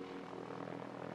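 A helicopter flying in the video game Sunken Land gives a steady droning engine hum with a faint rotor pulse, even and unbroken for about a second, with no speech.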